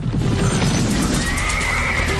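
A horse whinnies loudly and close, with hooves clopping underneath and a dramatic backdrop, evoking the four horsemen of the Apocalypse.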